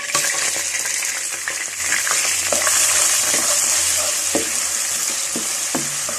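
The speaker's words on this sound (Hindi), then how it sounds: "प्याज को ब्राउन होने तक फ्राई करूंगी।" Finely chopped onions sizzle loudly in hot oil with cumin for besan bhindi, a dense steady frying hiss with occasional scraping stirs of a spoon in the pan.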